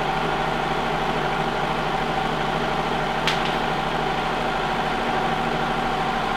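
A serger sewing machine runs steadily while stitching and trimming knit fabric for a pair of leggings, a continuous close mechanical whir with a brief sharp click partway through.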